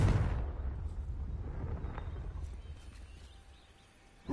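Confringo fire spell bursting in Hogwarts Legacy: a loud fiery blast at the start that fades into a low rumbling tail, with a fainter crackle midway and another sharp burst at the very end.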